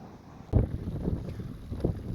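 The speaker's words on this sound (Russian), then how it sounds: "Блин, ветер сильнейший, сдувает, поэтому продолжаю путь дальше." Strong gusting wind buffets the microphone during a bicycle trip across an open plain in Colombia, with a sharp low thump of wind near the half-second mark and steady rumbling gusts continuing throughout.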